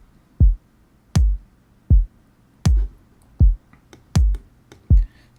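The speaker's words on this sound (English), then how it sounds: "So the kicks, I got 2 different kicks, and it sounds like this." Two layered kick drum samples in a Caribbean-style beat, punchy booming low thumps struck about seven times in an uneven syncopated rhythm, loud and close, with faint crisp percussion ticks between hits and no talking.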